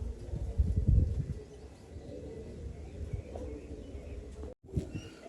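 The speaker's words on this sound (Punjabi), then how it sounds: "ਆਹ ਆਪਣੀ ਬੱਡੀ ਕਬੂਤਰੀ" Soft, low cooing of a female Babe Jante Wali bloodline pigeon murmurs against a hushed background, with a brief dropout near the end; no one speaks.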